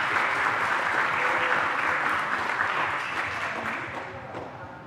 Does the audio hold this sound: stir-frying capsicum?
no